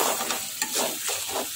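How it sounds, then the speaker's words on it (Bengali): Chicken meat fries in a pan with a loud, dense sizzle, broken by rhythmic scraping strokes as it is stirred, close and without talk. "প্রায় 15 মিনিট ভাজার পরে আমার মাংসের কালার এই আসছে।"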